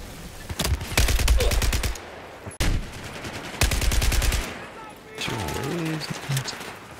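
Rapid automatic gunfire in a shooter video game, several close bursts of rattling shots separated by short pauses, with people talking over the action.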